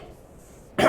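A person's voice imitating the snuffling noise of a white-furred snow ape sniffing the air, a short rough, breathy burst heard close and alone.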